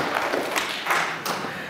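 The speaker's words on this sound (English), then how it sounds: "give Lexi a round of applause" A small group in a school talk on alcohol and tobacco prevention claps for a student named Lexi, a brief, close burst of scattered hand claps and taps that swells twice before easing off.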